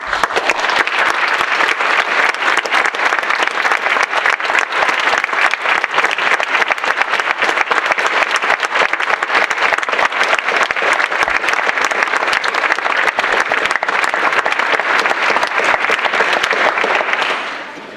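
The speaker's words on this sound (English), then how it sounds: "rise and be recognized with applause" Sustained applause from a large crowd at an academic honors convocation, loud and steady clapping that continues throughout before tapering off at the very end.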